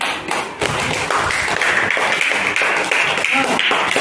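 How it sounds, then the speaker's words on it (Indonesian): Hands clap in a classroom in quick, fairly even bursts that continue steadily throughout, close and clear with little talk. "Tepuk tangan."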